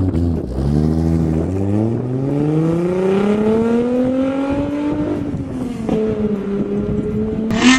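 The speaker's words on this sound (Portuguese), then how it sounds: "aumenta o som pra ouvir o som do carro" Car engine revving loudly up through the range and settling back, a smooth deep exhaust drone heard close and alone.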